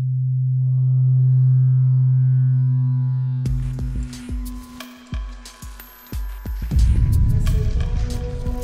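A steady low resonant tone swells and fades, then gives way to hollow knocks and clattering that ring out with strong reverberation in an enclosed granite cave chamber.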